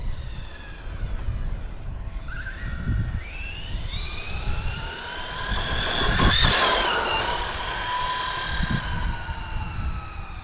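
WOV Racing Tyrant RC car on a fully charged 3S 120C battery at full throttle, a loud, continuous high-pitched electric motor whine that rises and falls in pitch as the car speeds past, peaking midway, over wind and outdoor noise.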